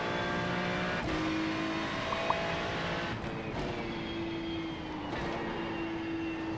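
A Ferrari 296 GT3 race car in iRacing at Spa, Belgium, its engine droning loud and steady from the cockpit, with tonal whine shifting through gear changes and no talking.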